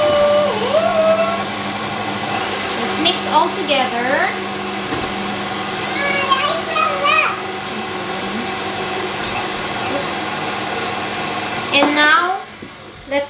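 An electric hand mixer whirs steadily through red velvet cupcake batter with oil, butter and vanilla extract, a continuous loud motor drone running the whole time while people talk over it.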